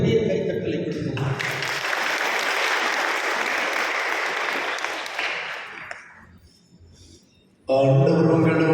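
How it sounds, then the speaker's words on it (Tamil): A Tamil church congregation at Christmas Mass gives a big round of applause for the parish priest, dense clapping that swells, then fades to quiet before a voice resumes. "எல்லோரும் ஒரு பெரிய கைத்தட்டலை கொடுக்கணும்"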